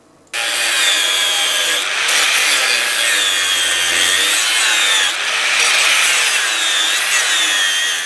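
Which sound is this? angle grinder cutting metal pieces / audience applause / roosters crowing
angle grinder cutting metal pieces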